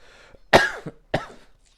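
A person with hypersensitive lungs coughing: two sharp, close coughs about half a second apart, the first harsher, with faint breathing before and after and no speech.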